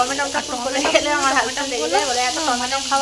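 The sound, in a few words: frying tomato with spice masala in a pan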